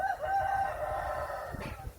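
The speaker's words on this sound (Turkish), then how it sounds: "duymuş bakın bizim horoz" A rooster crows once, a drawn-out call that fades, against a quiet outdoor background.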